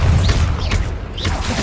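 A Bombarda spell explosion in Hogwarts Legacy, a video game: a dense, rumbling boom with crashing debris and whooshing effects that stays loud throughout.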